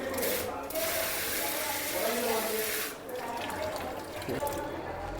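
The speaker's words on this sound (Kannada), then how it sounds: "ನೀರು ಫೋರ್ಸ್ ಆಗಿ ಅಥವಾ ನಾರ್ಮಲ್ ಆಗಿ ಎರಡೂ ಥರ ಸಿಗುತ್ತೆ." Water pours steadily from a waterfall-style kitchen sink faucet in a continuous close hiss that dips briefly partway through.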